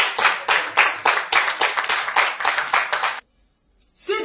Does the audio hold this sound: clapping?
yes